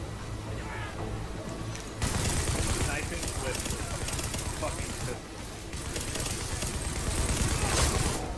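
Sustained light-machine-gun fire in The Division, a dense crackling barrage that steps up sharply after a moment and rattles on nearly without pause, loud and close in the game mix.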